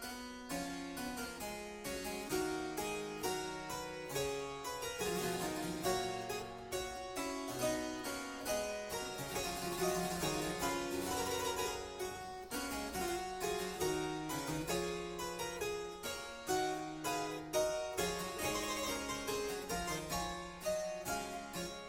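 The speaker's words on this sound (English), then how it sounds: "In the last variation, the 13th, where we would expect a canon to the 10th, we find a theme called Quod Libet" The Quodlibet, the final variation of Bach's Goldberg Variations, plays as a continuous keyboard performance in a steady, dense contrapuntal texture, fairly quiet with no voices.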